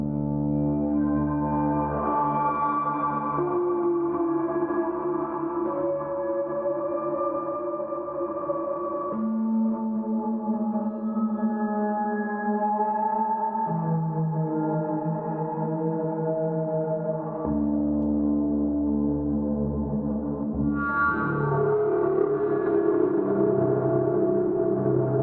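Piano chords are played through a Baby Audio Comeback Kid delay plugin, sustaining smooth, overlapping tones that shift harmony every few seconds and stay steady and full throughout, with no voice.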